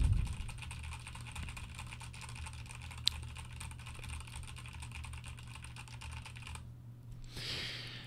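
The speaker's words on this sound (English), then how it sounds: "I'm just going to go ahead and type on my keyboard as I talk into the microphone" Rapid, continuous typing on a computer keyboard picked up by a Weymic WM-58 dynamic microphone, a dense close clatter of key presses over a low hum, ending briefly with a soft rustle.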